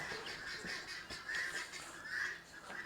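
Chickens cluck near a roof tent at a campsite, giving a few short, scratchy calls at moderate distance over a steady outdoor background, with no talking.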